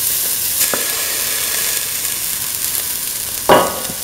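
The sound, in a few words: ground mint sizzling as it is added to the pan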